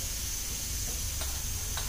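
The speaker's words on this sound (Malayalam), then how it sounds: "അപ്പൊ കടുക് നന്നായി പൊട്ടുന്നുണ്ട്" Mustard seeds pop and sizzle in hot oil in a home kitchen while tempering for kappa biryani, a steady close frying hiss with a couple of sharper crackles standing out and no talk.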